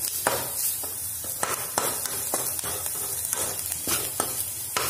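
Onions fry in a pan with a continuous sizzle, broken by repeated sharp scraping and stirring clatters of a spoon against the pan. Close and fairly loud, with no speech.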